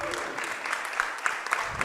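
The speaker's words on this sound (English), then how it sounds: "crowd showing their appreciation for Deppen here" A wrestling crowd at a TRUE Wrestling match applauds Tony Deppen, steady scattered clapping from the arena audience with a commentator talking over it.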